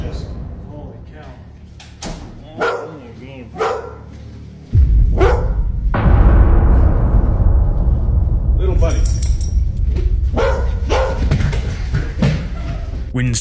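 A dog barks in short bursts indoors near a basement door while a person talks quietly. The door then opens with a loud sustained rumble and scraping.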